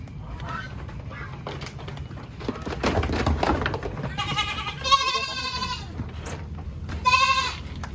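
A goat recovering from polio and tetanus bleats twice on a farm, the calls loud and close, strained and wavering, over a steady background rustle and low hum.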